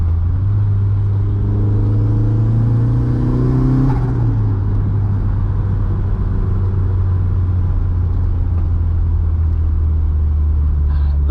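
A stock turbocharged 1.8T engine in a Mk2 drones loudly and steadily from inside the cabin, pitch climbing as it accelerates, then settling into a constant low rumble.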